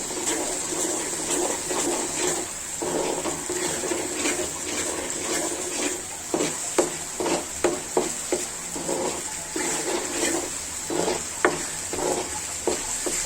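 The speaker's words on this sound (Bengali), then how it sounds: "মশলাটা আগে ভাজা হতে হবে" Spice paste for a beef and jackfruit curry sizzles in a pan while a spoon stirs and scrapes through it. Frying hiss stays constant, and irregular scraping knocks punctuate it, growing more frequent in the second half.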